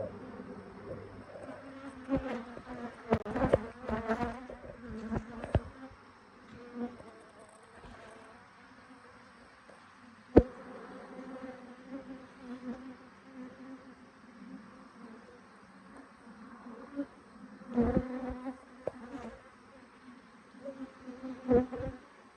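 Honey bees hum steadily around an opened hive frame in a wooded apiary in the late day after a swarm split. The buzz is continuous, close and fairly quiet, with occasional handling knocks and a few louder passing bees.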